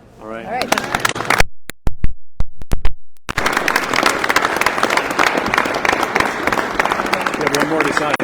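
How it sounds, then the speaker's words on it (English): A crowd applauds at a governor's bill-signing ceremony, dense clapping that swells after a few scattered claps and camera clicks, continuing loudly to the end. "Now we can clap."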